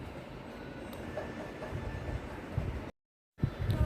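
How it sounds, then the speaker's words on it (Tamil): A train rumbles steadily past a railway crossing on the way to a temple, its continuous clatter interrupted by a brief cut of silence before resuming. "இது வந்து நாங்கள் போகிற வழியிலே ரயில்வே கிராசிங் இருக்குது"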